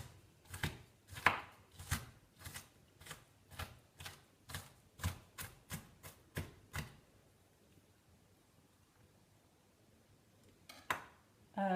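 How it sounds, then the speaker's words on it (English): A knife chops chicken adobo ingredients into tiny pieces on a board, giving a quick regular series of sharp close knocks that stop midway, followed by quiet and a couple of later thumps. "chop it up into tiny pieces."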